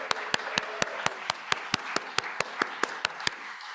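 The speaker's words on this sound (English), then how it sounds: "And keep the applause going." A worship-service congregation claps in a steady, even rhythm of about four claps per second, sharp repeated hand strikes that sound close and moderately loud with no talking over them.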